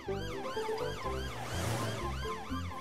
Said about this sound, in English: It's Police Officer Panda in his police car coming to see if everyone's okay.